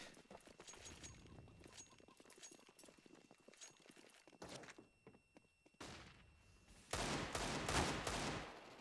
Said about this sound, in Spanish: le daba hasta tres tiros en el pecho